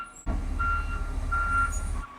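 A large truck backing up while hauling a boat, a loud steady engine rumble rising abruptly and running under a faint repeating reverse-warning tone, nearby.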